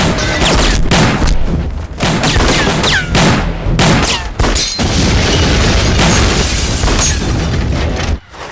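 Gunfire in a Hindi-dubbed South Indian action movie: dense, loud bursts of shots and booming blasts follow one another almost without a break, with a brief drop-out near the end.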